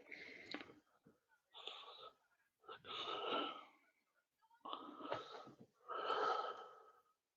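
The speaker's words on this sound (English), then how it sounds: "Keith, is that you breathing really hard?" Heavy, rhythmic breathing close into a microphone, five long ragged breaths with short pauses between them, loud and rasping with a wheezy edge, and no talking.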